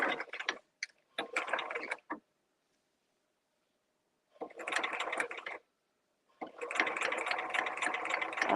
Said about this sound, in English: I'm just going to stitch it right down the center along that same seam